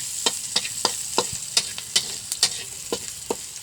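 Onions fry in a pan for a snakehead fish curry, a close crackling sizzle punctuated by a rapid run of sharp spatula taps and scrapes against the metal, with no speech.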